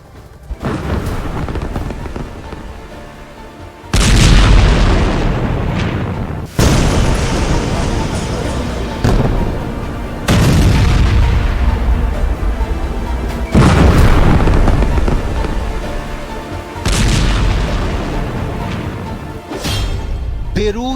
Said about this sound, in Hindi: बेरूत में 200 धमाके, हिजबुल्लाह के अड्डे पर भूकंप।